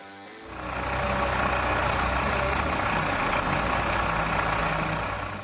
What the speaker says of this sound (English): The truck comes in heavy, kicking up dust, roaring with power